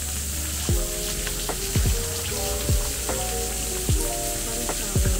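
A cold shower at a hot spring resort in Laguna pours with a constant, close hissing spray. Short, repeated chirping calls sound in the background.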